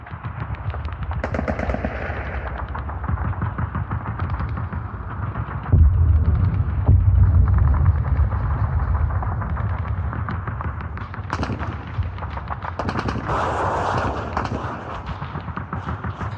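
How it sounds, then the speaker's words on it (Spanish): Bursts of gunfire and heavy thuds of distant explosions near a border during a war, a dense and continuous rattle of shots with deeper booms rolling underneath, loud and sustained with no voices. "Los tiroteos son detonaciones difíciles de localizar"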